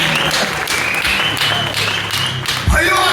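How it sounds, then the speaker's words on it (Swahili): A Sunday church congregation applauds loudly in a steady, dense wash of clapping, with a voice carrying over it. "Yes, makofi mengi."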